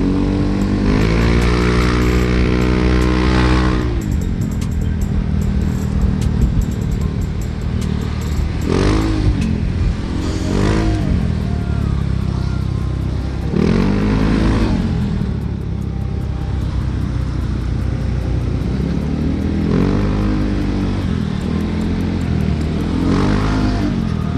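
A Honda PCX 160 scooter-style motorcycle runs continuously, its engine rising and falling in repeated revs with slowdowns between, loud and close throughout with no talk.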